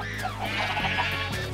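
Minecraft sheep bleat in a quick wavering cry over a continuous game background, close and clear for about a second and a half.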